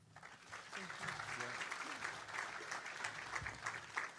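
An audience applauds at a firefighter cancer research conference welcome address, a dense patter of clapping that swells after a second and holds steady for about four seconds.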